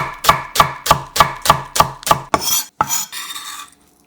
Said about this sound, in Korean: 통마늘 1개 다져서 넣고 대파 흰 부분 약간도 반을 갈라 송송 작게 썰어 넣고